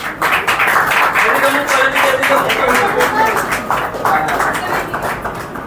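Many people clapping at a church mission gathering, a dense and continuous applause close by, with voices talking over it.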